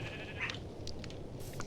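Pink sheep on a farm in the frontier survival video game Pioneers of the Wild Frontier give a few short bleats in the middle distance, set over a steady ambient background with no talk.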